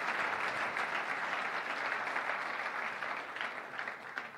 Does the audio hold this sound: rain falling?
no